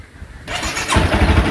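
A Honda CBR motorcycle engine cranks at about half a second and catches, then settles into a loud, steady throbbing idle close by, with no talking.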